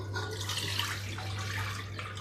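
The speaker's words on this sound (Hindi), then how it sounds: "अब ये देखिए, ये हमने इसमें डाल दिया है पानी," Water is poured from a bowl into a pressure cooker for cooking chickpea greens, a short steady splashing pour at close range over a low background hum.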